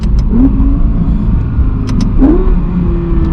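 A Bugatti Chiron engine revs in short bursts with paddle shift clicks and a couple of sharp, rising whines, close and loud, steady low rumble underneath.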